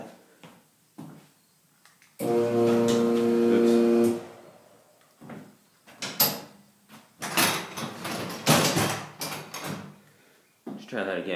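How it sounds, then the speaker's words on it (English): A solar-powered garage door opener drives a new shed door with a steady mechanical hum and rattle lasting about two seconds, followed by clunks and scraping movement, up close with someone speaking intermittently. "And it will still get the door up and down."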